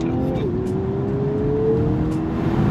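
Engine of a Mini John Cooper Works hatchback pulling away under hard acceleration, a steady rising drone heard from inside the cabin, loud and continuous with a brief gear change early on.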